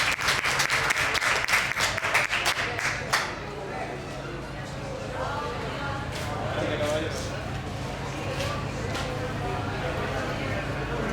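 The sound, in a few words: audience applause for a speaker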